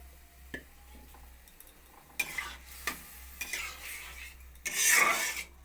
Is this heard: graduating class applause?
no